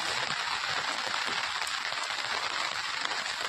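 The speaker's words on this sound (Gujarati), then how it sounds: "અત્યારે ધીમો ધીમો વરસાદ શરૂ છે" Light rain falling steadily over a village farm plot, a soft, even wash of patter that holds at a constant level throughout with no voices.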